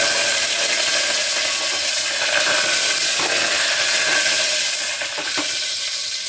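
Mustard seeds, cumin, garlic and curry leaves sizzle in hot oil in a pan, a loud, close, steady crackling hiss with occasional pops that eases slightly toward the end, with no talking.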